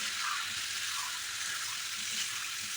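Fried cauliflower, potato and egg cooking in oil, a steady soft sizzle with light stirring, fairly faint and continuous with no voices.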